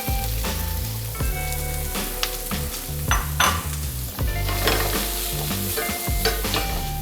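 Chopped onions fry in oil in a pan over very high heat, giving a loud, steady sizzle close by, broken by repeated scraping stirs and light clinks of the utensil against the pan.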